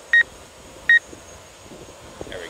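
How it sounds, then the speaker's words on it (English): A drone's collision detection sensor gives two short, bright electronic beeps in quick succession, then faint background hiss with a soft later chirp. "So we can get that beeping noise out of the way. So that's a collision detection sensor."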